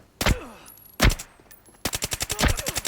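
Gunfire in the video game Arena Breakout: two single sharp shots, then a rapid burst of about a dozen automatic rounds in an even rhythm, loud and close.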